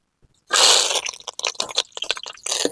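Curry leaves and green chillies hit hot oil in a pan, giving a sudden loud burst of sizzling and spitting crackle that settles into uneven bubbling pops, close and with no talking.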